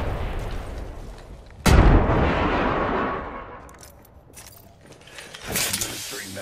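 Frag grenade detonating in the battle royale game Apex Legends, a sudden loud close boom with a long rumbling decay, followed by more game noise and a character voice.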